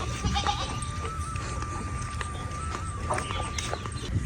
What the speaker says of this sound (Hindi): ये बदमाश है बकरियां, पूछो मत।